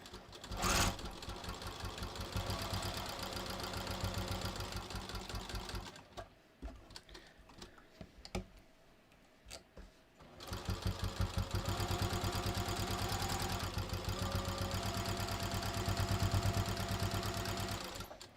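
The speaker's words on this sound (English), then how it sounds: "Now I'm just going to sew along the bottom." A domestic sewing machine runs steadily, stitching along the bottom of a bathrobe pocket. Its rapid, even needle chatter pauses for a few seconds midway, then resumes and continues at a constant close, moderate level.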